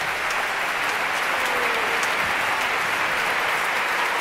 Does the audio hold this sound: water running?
no